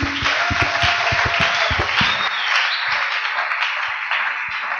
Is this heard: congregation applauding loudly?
yes